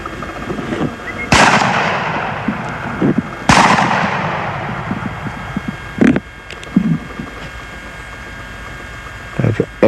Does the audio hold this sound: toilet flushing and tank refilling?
no